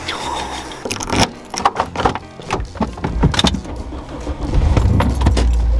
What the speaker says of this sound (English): Oh my god, my keys.